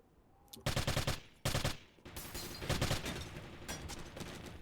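Gunshots during a competitive video game match. Bursts of automatic fire come in loud clusters, first two sharp volleys and then a longer, slightly more distant stretch of shooting with brief pauses between strings.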